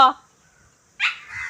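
A dog gives two short barks close by, separated by a brief pause of near silence.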